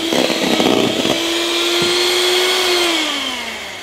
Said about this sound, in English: And then hand mix it on high until peaks form.